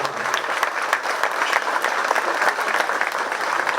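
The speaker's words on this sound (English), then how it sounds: "let's have a round of applause for the kids" Audience applause for 4-H kids at a bottle calf show at a county fair, a steady dense patter of many hands clapping throughout, fairly close, with no talk over it.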